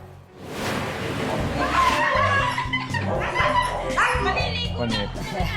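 A husky refusing a bath whines, yips and barks dramatically in a continuous, close, loud stream, with people laughing and talking over it.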